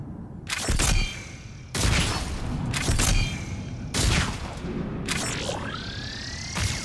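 Launcher weapon in the video game Mass Effect 3 fires in a series of sharp blasts with explosions, roughly four bursts spaced a second or so apart, each followed by a ringing whine and rumbling tail.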